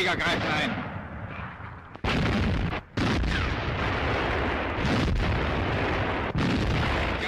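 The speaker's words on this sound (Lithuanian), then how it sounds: "Artilerija apšaudo miestą." Artillery shelling a town during a wartime advance with German tanks, heard as continuous heavy rumbling blasts and booms that fill the clip, with a brief lull near the middle before the barrage resumes.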